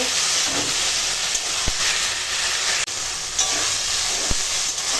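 Taro leaf greens (kochu shak) being stirred in a hot pan with spices, a constant close sizzle and hiss with occasional scrape and clatter of the spoon.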